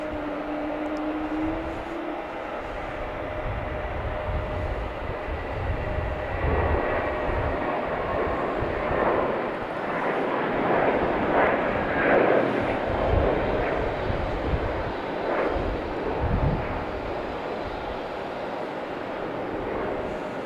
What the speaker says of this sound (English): We have another JetBlue taking off